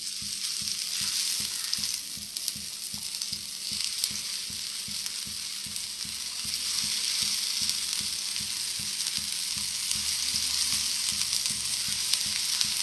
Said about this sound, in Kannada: ಹೆಂಚು ಬಿಸಿಯಾಗಿದೆ, ಇವಾಗ ಕ್ಲೀನಾಗಿ ಒಂದೊಂದೇ ಸುಟ್ಕೊಳ್ಳೋಣ.